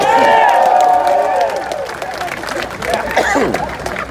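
A rally crowd for reparations in Washington, DC applauding and cheering, with loud whoops and shouts at first over clapping, then scattered calls and voices as the noise continues.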